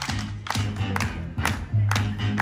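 Spectators at a Loudenvielle Enduro World Series race clap and cheer a rider coming in, with rhythmic hand claps, shouts and voices mixed in, fairly close and loud over a humming background.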